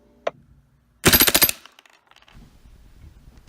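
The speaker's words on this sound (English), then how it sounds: "When going full auto, you'll have a range or a rate of fire of over 850 rounds per minute." A Magnum Research Desert Eagle airgun fires full auto: an early click, then a fast, loud half-second burst of about eight snapping shots, followed by quieter mechanical rattling and handling noise.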